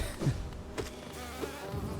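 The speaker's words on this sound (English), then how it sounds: "Yeah, they are thick bees." Fat, chunky bees in the hive area of the Hollow Knight video game buzz softly and steadily. The drone stays faint and continuous throughout, with a few brief swells.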